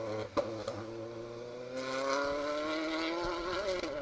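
A Citroen C3 Rally2 rally car, driven by Steve Wood, on a stage of the Carryduff Forklift Down Rally: its engine note climbs steadily as it accelerates, heard from a moderate distance, with a brief sharp pop near the start.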